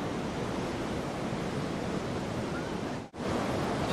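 Ocean surf rolling and breaking during a professional surfing competition at Margaret River, Western Australia, a continuous broad wash of white water with a brief dip near the end, no talk.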